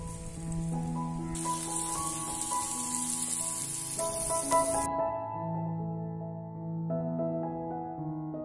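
Chopped onion drops into hot sweet oil and sizzles with a bright hiss for a few seconds over steady background music, then the hiss fades and the music carries on alone.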